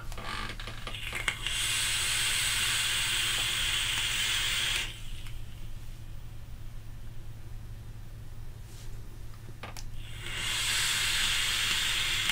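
A long hissing vapor pull from an e-cigarette loaded with AQUA e-liquid, a steady airy rush lasting several seconds, then a pause and a second drawn-out puff near the end.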